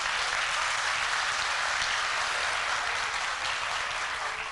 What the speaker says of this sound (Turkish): Hira Nur'u da alkışlayabilir miyiz?